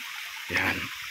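Water gushing and splashing as it falls and flows along a concrete canal outdoors, a rushing surge swelling suddenly in the middle of a steadier hiss.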